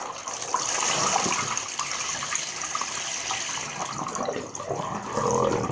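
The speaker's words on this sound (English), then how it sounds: "So I pour the water." Water pours and splashes steadily for several seconds into a turtle tank, a continuous gushing rush at moderate volume with no voices.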